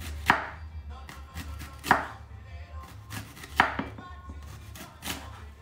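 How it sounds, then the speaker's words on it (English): A knife slices fennel thinly on a cutting board for a stew, with regular, close, crisp chops roughly every second and a half and softer knife scrapes between them, no talking. "It's very important to cut them very thin, because that way it will cook much better"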